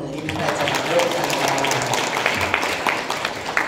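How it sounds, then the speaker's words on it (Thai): Audience applause for a professor at an academic discussion session, a short burst of clapping mixed with a voice speaking over it. "ปรบมือให้ท่านอาจารย์โรสัน"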